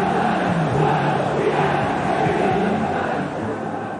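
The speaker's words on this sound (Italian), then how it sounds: "Allo stadio si torna a intonare cori in onore del centravanti del primo scudetto" Lazio football supporters chanting together inside the stadium, a dense, continuous crowd roar of massed voices that holds steady throughout and eases slightly near the end.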